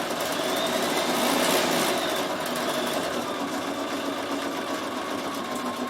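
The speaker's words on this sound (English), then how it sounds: "So I do use my embroidery module a lot." A Bernina 7 Series sewing machine with its embroidery module attached stitches steadily, a continuous fast mechanical whir with a dense rapid needle rhythm, close and even throughout with no voices.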